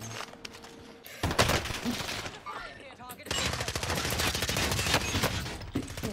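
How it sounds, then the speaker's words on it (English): Bursts of rapid automatic gunfire in an online shooter game, rattling volleys that grow denser in the second half, close and busy, with no clear talk over them. "I'm getting shot from the other side?"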